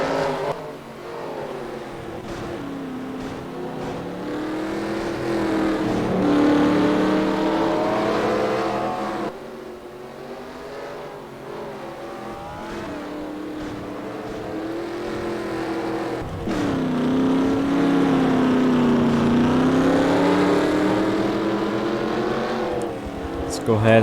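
Dirt race cars roar off at the green flag of the Xtreme Dirt Derby in the Axalta Pro Series, a steady layered engine drone rising and falling, with a commentator talking over it throughout.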